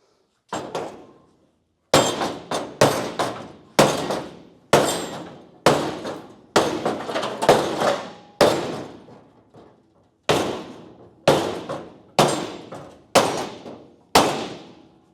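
Hammer taps gently on an aftermarket car body panel, a series of sharp metallic knocks spaced irregularly, some in quick pairs and triples, each ringing briefly before the next strike, close and clear with no talking.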